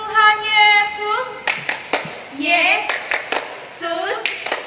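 Children and a leader performing the Tepuk Tuhan Yesus clapping game at an online Sunday school service: sung and chanted phrases punctuated by sharp, separate hand claps in a rhythmic pattern.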